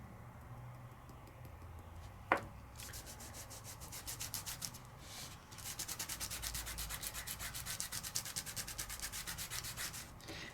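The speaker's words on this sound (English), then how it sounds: "And then I'm going to give it just a little bit of a burnish." Microfine glitter burnished through a layering stencil, heard as a steady close scratchy rubbing in quick repeated strokes after a brief sharp tap, with no talk.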